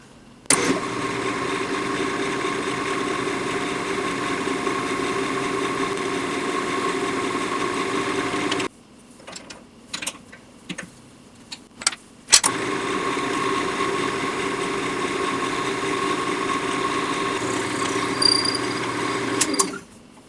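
A lathe drilling a pen blank drones steadily and loudly, cuts out for a few seconds with scattered clicks and bumps, then resumes at full level.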